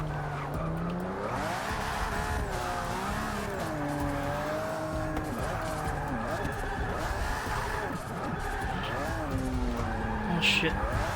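A car drifts in the video game Forza Motorsport 6 with sustained, wavering tire squeal and skidding over a revving engine. The squeal is loud and continuous and rises and falls throughout.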